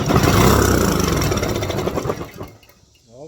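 A small go-kart engine fires up and runs, a loud rapid chugging putter close by that gradually loosens and fades within a few seconds, ending in quieter sputters.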